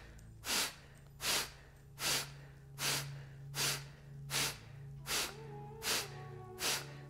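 Rapid, forceful exhalations through the nose during a yoga breathing exercise, nine sharp bursts of air spaced evenly under a second apart, close and clear against a quiet background with a low steady hum.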